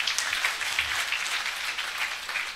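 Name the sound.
audience clapping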